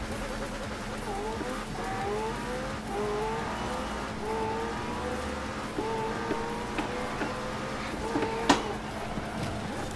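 A fully maxed-out McLaren Senna racing in Forza Horizon 4, its engine revving steadily through rising and falling gear pitches, with brief tire squeal and a sharp knock near the end.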